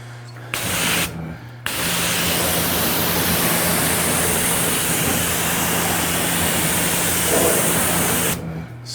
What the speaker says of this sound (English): there's a vibration going on the pressure washer